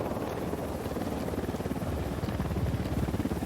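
A helicopter in the Ghost Recon video game whirs with steady, fast rotor pulses that stay loud and close throughout, with no break in the droning chop.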